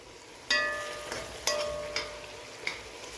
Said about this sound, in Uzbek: qozonga mana pomidor va bulg'or qalampir solamiz